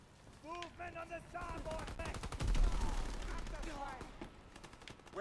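Machine pistols fire in rapid bursts during a Call of Duty WW2 multiplayer match, mid-distance gunfire heard under someone talking.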